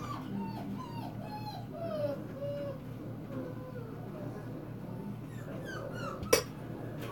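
Dogs in a kennel whimper and yip in a series of thin, rising cries, fairly faint against a steady low hum, with one sharp clatter near the end.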